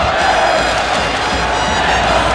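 High school boys' tournament basketball crowd at a Wilmington vs Moeller game, roaring and cheering steadily and loudly throughout the final seconds of a close game.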